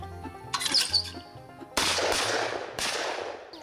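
Several gunshots fired at targets outdoors, two sharp loud cracks with ringing decay following quieter shots and faint bird chirps in the background.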